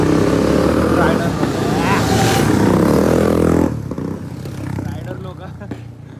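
Several riders' motorcycles, including Bullet and sport bikes, roar past loudly on a night road, a dense engine drone that drops away abruptly partway through, leaving fainter traffic and voices.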